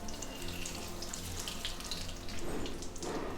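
Mustard seeds and fenugreek with curry leaves tempering in hot oil give a soft, steady sizzle with fine crackling and spitting, close by and swelling briefly near the end, with no talking.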